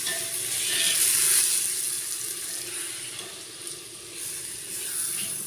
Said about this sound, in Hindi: प्याज को चला लेते हैं